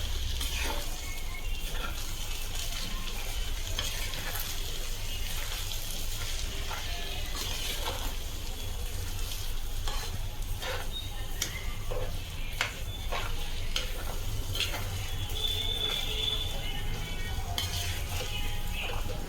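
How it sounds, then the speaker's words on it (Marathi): A spoon stirs sugar into pineapple sheera in a pan, giving continuous soft scraping and light sizzling with scattered clinks against the metal, close and steady throughout. "साखर घालून आपल्याला मस्तपैकी फिरवून घ्यायचे"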